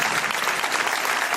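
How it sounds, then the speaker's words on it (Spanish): A studio audience gives a guest a short burst of steady, dense applause on a television show. It is clapping alone with no other sound. "Pido un aplauso para él."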